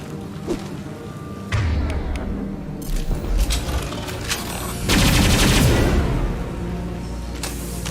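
Loud video game gunfire from Mass Effect 2, dense bursts of rapid shots and heavy thuds in a sustained barrage, peaking in a harsh cluster near the end.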